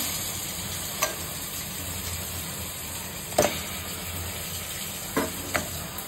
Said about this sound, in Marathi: आता ह्याच्यात आपल्याला टाकायचं आहे चिंबोऱ्या।